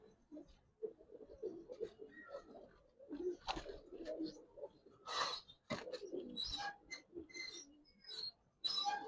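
Paired Giribaz pigeons, cock and hen, coo and flutter at close range in a loft, the low burbling calls recurring irregularly amid light rustling and scattered sharp noises.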